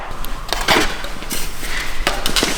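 Metal tools work on parts of a 2017 or 2018 motorcycle to reach the battery, giving close, loud clinks and scrapes in an irregular rhythm.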